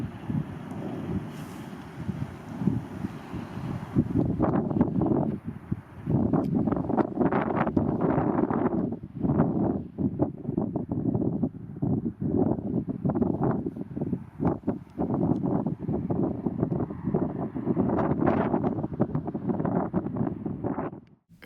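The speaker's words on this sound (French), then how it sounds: "Je vous épargne le bruit du vent." Strong wind buffets the microphone on Craigston beach in Scotland, a loud continuous roar with gusty surges and rumbling low thumps throughout, easing slightly near the end, with no voices.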